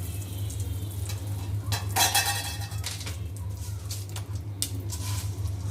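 Asafoetida hits hot oil in a pan as tempering for kadhi, giving a crackling, spitting sizzle with a few louder bursts over a steady low hum from the stove.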